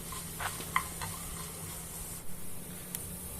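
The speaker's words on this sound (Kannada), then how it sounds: "ಜೀರಿಗೆ ಇದನ್ನು ಕೂಡ ಹಾಕ್ಕೊಂಡು ಅದರ ಜೊತೆಗೆ ಇಂಗನ್ನು ಕೂಡ ಹಾಕ್ಕೊಂಡು ಚೆನ್ನಾಗಿ ಫ್ರೈ ಮಾಡ್ಕೋಬೇಕು" Cumin and asafoetida frying in a pan for tomato rasam, a faint steady sizzle with a few light stirring scrapes and taps.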